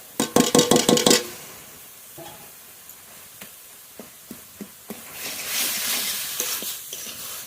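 Deboned tilapia frying with pea greens in a pan: a burst of sharp clanks up front, then sparse knocks and scrapes, and finally a rising sizzle of hot oil.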